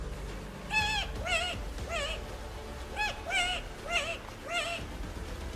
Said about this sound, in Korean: 밤이 되면 숲속에서 사람 같은 기괴한 울음소리를 냈는데